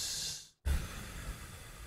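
Unpitched breath sample from a backup-singer vocal library: an airy exhaled breath that fades out, a brief silence, then a breathy noise swelling in again, close and soft.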